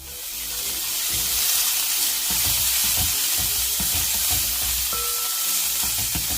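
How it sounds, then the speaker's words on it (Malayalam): Sliced onion and curry leaves sauté in a pan for a kilimeen (pink perch) fish curry, a steady close frying hiss with scraping stir strokes and light clatter throughout, no voices. "അപ്പോൾ കുറച്ച് കറിവേപ്പില കൂടി ഞാൻ ഇതിനോടൊപ്പം ചേർത്തിട്ടൊന്ന് വഴറ്റിയെടുക്കാൻ പോവുകയാണ്"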